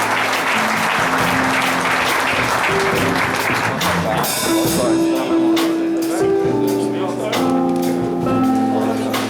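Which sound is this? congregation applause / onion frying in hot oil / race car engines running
congregation applause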